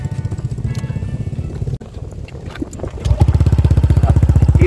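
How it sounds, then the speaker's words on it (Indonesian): A Honda Vario 150 scooter with a TZM Project aftermarket exhaust idling up close, a loud rapid even putter that grows stronger and more pulsing midway. "Ini stasionernya ya, jadi suara stasionernya seperti ini."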